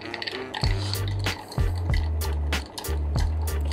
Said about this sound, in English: Give a nice stir.